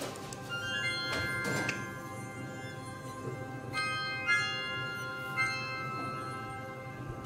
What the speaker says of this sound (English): Chimes and strings and it's like spa music.